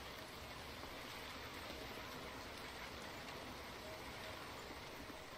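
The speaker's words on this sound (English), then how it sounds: "Rain, of course." Steady, dense rain in the video game Diablo 4 hisses evenly throughout, a constant wash of falling drops with no talking.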